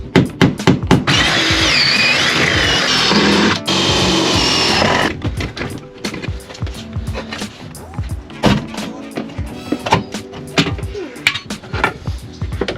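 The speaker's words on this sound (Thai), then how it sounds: "ต้อง เจาะรู เจาะรูรถอีกแล้วนะครับ" A power drill whines loudly for several seconds drilling holes in a van body, then stops, followed by scattered metallic clanks and knocks of work on a metal surface.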